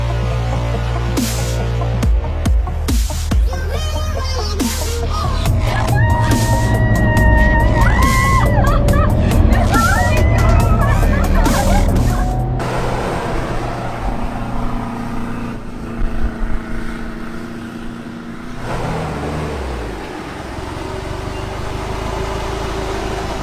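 An amphibious car driving sideways in crab mode along a beach, its engine and tires producing loud, sustained churning noise with shifting tones and sharp transients, fading into softer rumble and wind toward the end.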